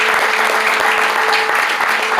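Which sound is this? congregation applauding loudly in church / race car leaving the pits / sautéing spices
congregation applauding loudly in church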